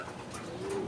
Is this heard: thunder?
no